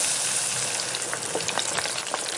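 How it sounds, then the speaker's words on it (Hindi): Sweet dough tangri deep-frying in a kadai of hot oil gives a loud, dense, continuous sizzle with small bubbling pops, close and unbroken, with no talking. "अब एक एक करके मैं इसे फ्राई करता हूँ।"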